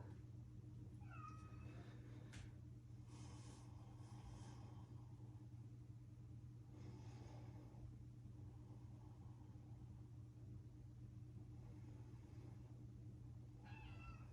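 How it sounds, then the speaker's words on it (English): A cat meows to be let in, giving a few short, faint cries spread across the stretch against a steady low rumble like a passing car. It sounds somewhat distant, and no one talks. "My cat is very insistent that he come in,"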